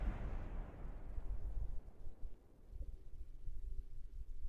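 Rocket boosters blow up in Kerbal Space Program as a muffled, low roaring blast that slowly dies into a steady rumble.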